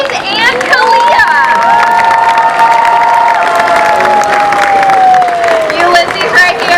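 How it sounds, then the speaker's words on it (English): Crowd at a SeaWorld San Diego orca show applauding and cheering loudly, with children shouting and a sustained tonal whistle or call ringing over the din throughout. "Everybody please give a big round of applause for Ulises and Kalia."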